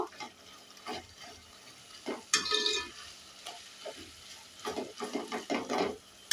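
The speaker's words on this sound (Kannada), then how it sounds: "ಇದನ್ನು ಈ ಥರ ಸೌಟಲ್ಲಿ ಈ ಥರ ಸ್ಮ್ಯಾಶ್ ಮಾಡ್ಕೊಳ್ಳಿ." A ladle mashes cooked tomatoes in hot oil for a quick tomato pickle, giving irregular soft squelches and scrapes against the pan over a light sizzle, close and moderately loud.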